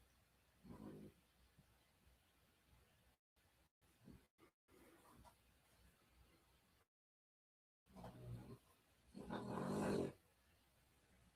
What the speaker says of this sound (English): I'm sorry about the dog snoring in the background.